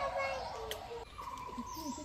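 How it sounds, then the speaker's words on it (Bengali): A western crowned pigeon in a zoo enclosure in Aizawl, Mizoram gives soft, low cooing notes, faint beneath nearby people talking. "western count pigeon"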